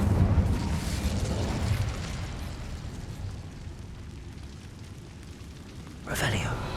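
A burst of fire erupts from the Incendio spell in Hogwarts Legacy, a loud whooshing blast near the start that settles into a crackling rumble, with a second sharp flare near the end.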